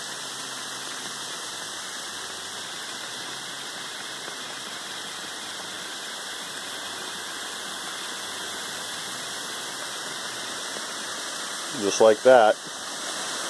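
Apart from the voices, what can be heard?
gold and quartz specimen bubbling in boiling 35% hydrogen peroxide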